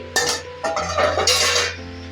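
A spatula scrapes and clinks against a pan while eggs and chicken are stirred into chicken fried rice, with a few quick metallic strokes over a low steady hum.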